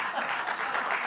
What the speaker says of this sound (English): Big applause break